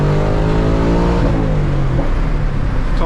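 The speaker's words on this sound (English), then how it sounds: "Rolling the throttle." A 2024 Ford Mustang Dark Horse pulls in second gear under throttle, its engine roaring loud and close with a deep, rising rev that holds steady and strong throughout.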